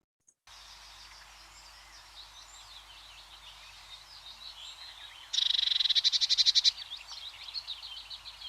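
Eurasian Blue Tit calling amid a chorus of chirping birds, then a loud, rapid trilling burst like a drum roll lasting about a second and a half, close and clear.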